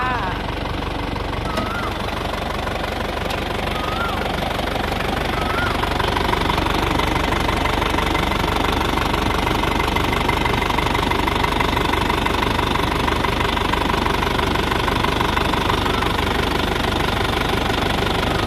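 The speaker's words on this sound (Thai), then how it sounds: "นี่ติดเครื่องแล้วนะคะเดี๋ยวลองฟังเสียงเครื่องกันค" A loud, steady 3.0-litre diesel engine of a 2004 Isuzu D-Max Hi-Lander pickup idling with a rough, knocking rumble that continues unchanged throughout, close by.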